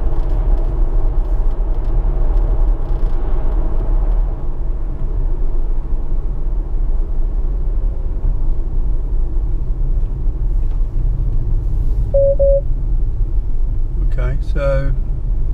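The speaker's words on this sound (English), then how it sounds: "the car really slowed down for that bend, and it slowed down early, earlier than normal" Tesla Model S on a UK road under Autopilot, a steady low rumble of tyres and road noise inside the cabin, constant and fairly loud, with a brief chime near the end.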